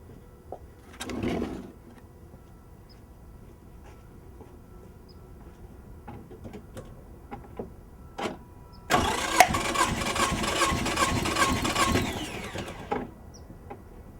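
A Scion engine cranks over on the starter during a compression test, a steady mechanical churning burst of a few seconds near the end after quieter clicks and handling sounds.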